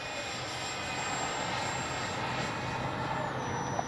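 A Freewing 80mm F-22 RC jet flies overhead on its maiden flight, its ducted-fan whine a steady, fairly loud roar with no talk over it.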